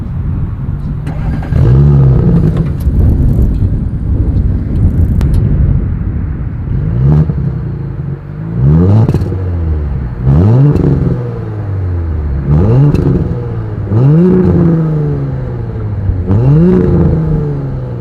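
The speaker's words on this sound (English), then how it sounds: "As always, here is that exhaust clip." A 2020 Audi S4 revs from idle, its exhaust note rising and falling in repeated loud throttle blips with a brief pause in between, close up and without any talking.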